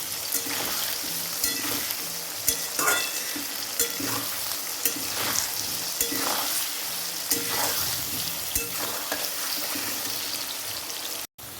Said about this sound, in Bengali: পরিমাণ মতো নুন দিয়ে দেব আলুটা লাল লাল করে ভেজে নেব